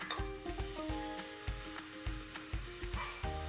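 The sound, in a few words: butter, brown sugar and maple syrup sizzling in a saucepan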